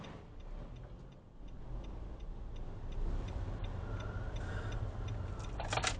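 A car's turn signal indicator ticks at a steady, even rhythm inside the vehicle during a driving route in West Didsbury, Manchester, heard faintly over the hum of the moving engine.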